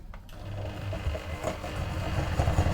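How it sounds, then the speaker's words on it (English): A Ninja 3-in-1 food processor whisks caster sugar, its motor whirring in a steady mechanical hum that climbs slightly in loudness and stays close throughout. "this is my Ninja 3-in-1, by the way, just going to whisk it up."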